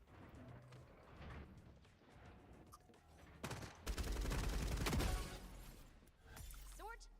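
Gunfire in a FragPunk match streamed live during a LAN watch party, with rapid bursts and scattered shots building to a dense, loud volley, mixed under excited talk from several voices.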